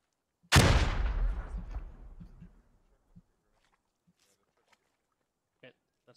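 A frag grenade in a squad-based military video game bursts in one loud, deep blast that rolls off over about two seconds, then a few faint distant pops and clicks sound in near silence.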